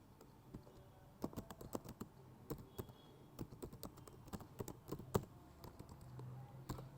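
Code being typed on a computer keyboard, with quiet, irregular bursts of key clicks and a few sharper taps, close by and alone without any talking.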